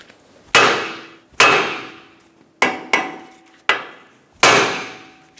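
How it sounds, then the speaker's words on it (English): Six sharp hammer blows on the steering knuckle of a 2012-2020 Chevrolet Sonic during tie rod removal, spaced irregularly, each loud metallic strike ringing out and decaying alone. "Give the knuckle a bonk."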